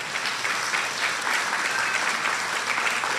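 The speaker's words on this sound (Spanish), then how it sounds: "Dale un fuerte aplauso al Todopoderoso." Church congregation applauding at a Sunday sermon, steady dense clapping throughout, moderately loud and continuous with no voices over it.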